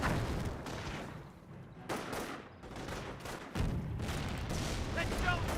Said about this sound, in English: Mortar hits the garrison.